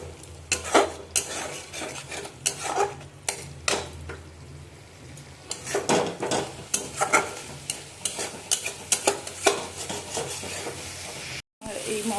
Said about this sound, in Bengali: মশলাটা কষাতে হবে।